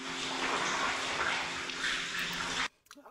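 Water in an underground cave makes a steady rushing, splashing wash that drowns out everything else, then stops abruptly near the end, followed by faint small knocks.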